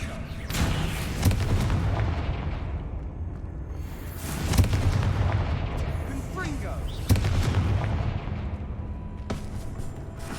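A Confringo blasting spell in the Hogwarts Legacy video game sets off a series of loud booming explosions, each a heavy blast with a long rumbling decay, repeating about every three seconds.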